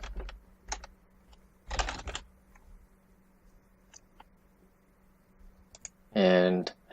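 Scattered keystrokes and a couple of short bursts of typing on a computer keyboard sound close and quiet, followed by a brief spoken phrase at the end.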